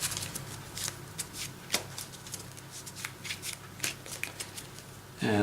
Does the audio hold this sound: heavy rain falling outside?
no